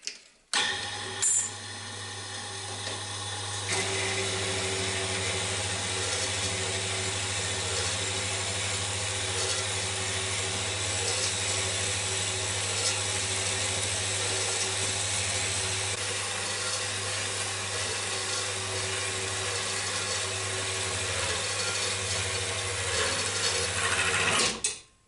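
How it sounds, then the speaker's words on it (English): A saw cutting off a mild steel blank for a custom golf putter makes a steady, loud, continuous grinding hum with a constant low drone, running nearly the whole time after a few brief starting knocks, and no voices. "I'll join you at the saw just shortly and we'll be cutting off the blank to start machining this out"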